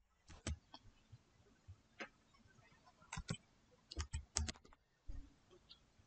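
Soft, scattered key clicks from a computer keyboard as a search term is typed in Windows, irregular single and clustered taps, fairly faint and close with no talking.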